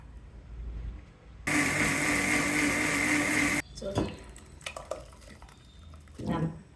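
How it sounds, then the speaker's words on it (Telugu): A kitchen mixer grinder churns cream collected from milk over twenty days into butter, a loud steady whirring roar lasting about two seconds, followed by softer clinks and handling sounds. "ఈ మేగడ్ని మిక్సీలో వేద్దాం"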